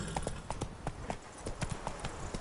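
Horse hooves clip-clop at a quick, steady trot in The Witcher 3, a run of close, crisp hoofbeats over a low game background.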